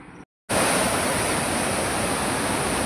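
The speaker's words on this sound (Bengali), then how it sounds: "ঝর্ণার মতন জল পড়ছে" After a brief cut to silence, a dense, steady roar of rushing, falling water fills the rest of the clip, loud and close.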